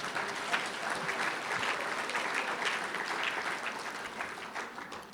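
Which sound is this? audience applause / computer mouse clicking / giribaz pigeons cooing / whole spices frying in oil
audience applause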